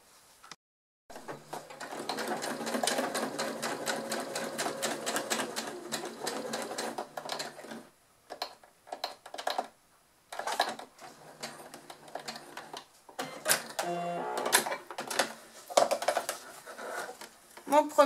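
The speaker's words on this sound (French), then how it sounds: "Donc je couds simplement les deux tissus doublure ensemble jusqu'ici." A sewing machine stitches two pieces of faux leather bag lining together in rapid, steady runs broken by short stops. Someone talks softly between and over the bursts.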